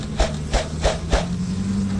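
Four evenly spaced hollow thumps as a wooden bee package box is pounded down to knock bees loose, each a dull knock over a low steady background buzz from the bees.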